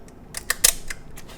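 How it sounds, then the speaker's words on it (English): Several quick mechanical clicks and snaps from the shutter mechanism of a Mamiya 35 Ruby camera, close up, in a quiet room with no talking. "And ease the shutter"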